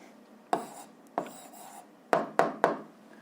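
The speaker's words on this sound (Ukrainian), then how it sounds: "Пишемо відповідь." A pen writes an answer on paper in five short, separate scratching strokes, close and fairly crisp against a quiet background, with no talking.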